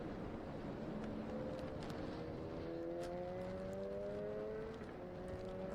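An endurance race car exits a corner at Portimão, its engine droning steadily with rising harmonic tones as it accelerates under a constant broad wash of track noise, with no talk.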